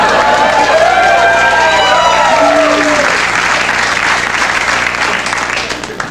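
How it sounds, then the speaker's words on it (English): A late-night TV studio audience applauds loudly, a dense, steady wash of clapping and crowd noise that lasts for several seconds and thins slightly at the end, with a voice speaking over it. "Thanks for applauding an obviously retouched photo."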